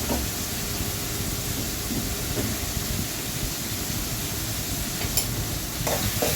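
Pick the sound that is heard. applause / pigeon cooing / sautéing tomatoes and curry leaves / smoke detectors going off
sautéing tomatoes and curry leaves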